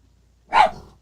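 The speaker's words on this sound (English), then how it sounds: "my dog just went nuts over someone he already knows" A dog at home lets out a single sharp bark at someone arriving at the door, fairly close and sudden after near silence.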